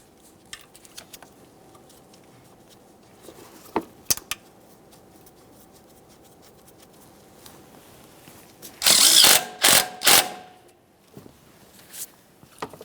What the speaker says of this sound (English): Start in your 13mm headed bolt and snug it up.